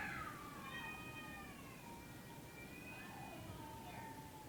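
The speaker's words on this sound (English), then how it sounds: "Oh, the cats are killing each other." Cats fighting outdoors, letting out long drawn-out yowls and wavering caterwauls that rise and fall over several seconds. The yowls sound somewhat distant and sit over low background noise.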